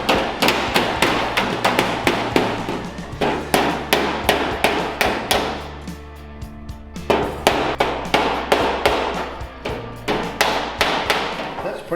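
Hammer tapping along the edge of a car door skin being fitted, a steady run of sharp metallic taps with brief pauses, close and loud, no talk.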